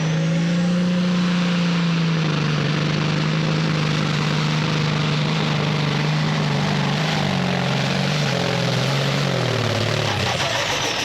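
Kenworth hot rod semi truck at a truck pull in Hillsboro, Wisconsin, its engine roaring steadily and loudly as it drags the sled down the track, the pitch wavering and dipping near the end.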